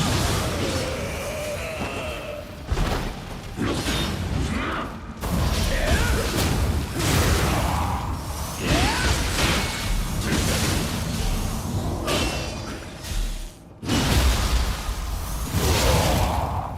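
Combat in the video game Nioh during a grapple attack brings dense, loud whooshes, thuds and crashing impacts in quick succession, with brief gaps between bursts.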